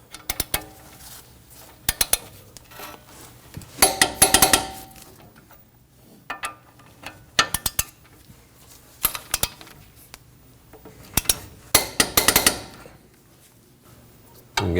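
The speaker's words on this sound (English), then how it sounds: "We can torque these to 101 foot-pounds." Torque wrench tightening bolts on a Honda Pilot steering knuckle, sharp metallic clicks and ratcheting clacks arriving in short clusters separated by quiet pauses, close and crisp.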